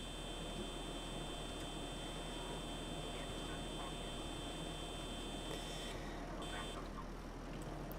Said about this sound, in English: alarms are going off in it.